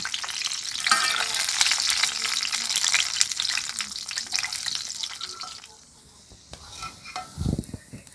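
Kathi gaja dough sticks fry in hot oil, giving a loud, dense sizzle that runs steadily, then drops away about two-thirds through. A brief low clatter follows, like the sticks being lifted out, and no one speaks.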